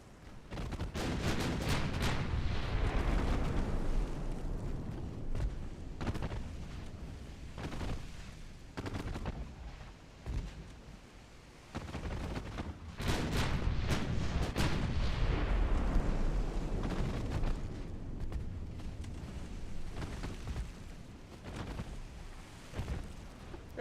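Heavy, booming torpedo blasts from a naval warfare video game erupt in repeated roaring bursts with long rumbling decays, loud and close, with no talking.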